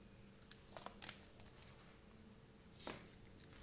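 Tarot cards being shuffled and drawn from a deck: a few soft papery swishes and snaps, close and faint, separated by near-silent pauses.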